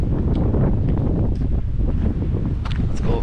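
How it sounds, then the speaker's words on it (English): Wind blowing by a lake, loud continuous buffeting and rumbling against the microphone with faint lapping water beneath. "It's a little windy today."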